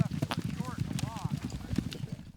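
Horse hooves clip-clop in a quick, uneven rhythm as a herd moves on a frosty spring morning in western Colorado during the Great American Horse Drive, with someone talking over the hoofbeats.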